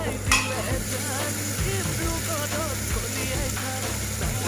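Finely chopped tomatoes fry in a pan with a steady close sizzle, and occasional stirring strokes break through it.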